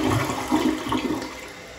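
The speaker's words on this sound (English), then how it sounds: "they would not allow a good inrush of water in order to get a good flush." A toilet flushes close by, with a steady loud rush of water pouring into the bowl that churns and swirls without pause for the whole stretch.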